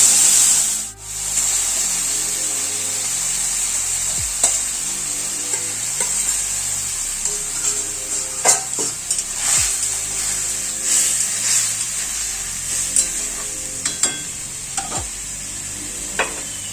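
Green chilli, boiled calabash and dried lentil dumplings fry in a pan for a Bengali curry, sizzling steadily up close while a spoon scrapes and stirs in irregular strokes, without any speech.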